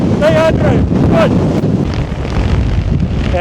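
Strong wind roars and buffets the microphone on the summit of Carn a' Chlamain, a Scottish Munro. A voice briefly calls out over the loud gusts.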